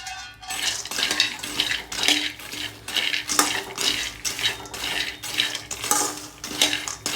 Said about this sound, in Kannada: ಈಗ ಒಂದು ಕಡಾಯಿನ ಇಟ್ಟಿದ್ದೀನಿ ಇದಕ್ಕೆ ನಾನು ಹುರಿಗಡ್ಡೆಯನ್ನು ಹಾಕ್ಬಿಟ್ಟು ಹುರ್ಕೊಂಡ್ಬಿಡ್ತೀನಿ